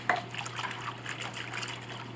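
Very hot water trickling and splashing steadily as it is poured to wash glue off piano veneer on a Steinway B, close and continuous after a brief clink at the start.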